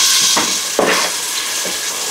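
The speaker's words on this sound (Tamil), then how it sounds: "நல்லா சேர்த்து வதக்கணுமா வதக்கிடுவோம்" Tomatoes, ginger garlic paste and green chilies sauté in a pan with a loud, continuous sizzling hiss, broken by a few brief stirring swishes close by.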